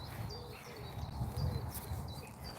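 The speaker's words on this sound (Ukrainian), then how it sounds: "А скільки тут пташок співає." Birds calling in a spring forest near Zhytomyr, a steady layered chorus of soft hooting and cooing notes with higher chirps, moderately distant and continuous without talk.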